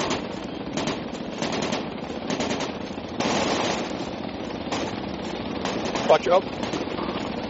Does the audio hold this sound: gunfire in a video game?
yes